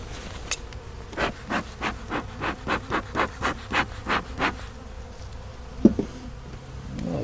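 Honey bees from an opened nuc hive, buzzing in a rapid pulsing series of close, loud bursts, with a sharp knock near the end.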